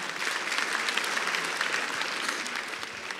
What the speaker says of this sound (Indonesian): Sekali lagi tepuk tangan buat Ridwan Remen.